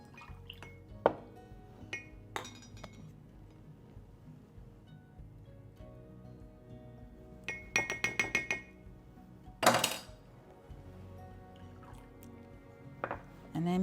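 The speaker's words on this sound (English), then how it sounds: "simply mix it all together." Soy sauce, oyster sauce and water are stirred together in a small bowl for a stir-fry sauce, giving sparse clinks of a spoon against glass, a few quick rattling bursts and soft liquid drips, close and alone.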